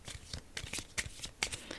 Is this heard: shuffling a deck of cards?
yes